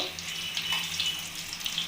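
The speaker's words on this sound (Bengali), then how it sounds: "এইভাবে আমি সমস্ত চিকেনগুলো ভেজে নেব" Chicken pieces for chilli chicken fry in oil in a kadai, making a quiet, steady sizzle and crackle that stays even throughout, with no voices.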